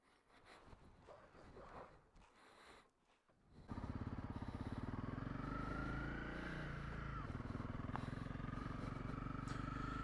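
A Honda CRF 300 Rally motorcycle starting off on a calm, windless morning, a steady single-cylinder engine drone rising after a few seconds of quieter handling noise and faint talk.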